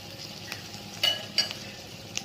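A pinch of whole fenugreek seeds fries in hot oil in a pan for fish curry, giving a faint steady sizzle broken by a few quick spoon scrapes and light clinks against the metal.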